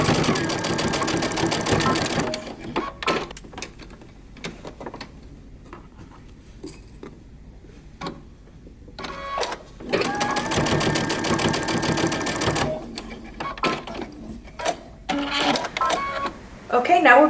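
A sewing machine stitches down the bands of a moto jacket, running in bursts that stop and restart with quiet gaps between them, and a voice is heard in the pauses.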